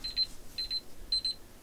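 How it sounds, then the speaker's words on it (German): An alarm clock goes off with three quick groups of high, thin electronic beeps in a steady repeating pattern, close and fairly quiet, with no one talking. "diesmal habe ich mir einen Wecker gestellt, darum weiß ich, dass schon wieder eine halbe Stunde rum ist"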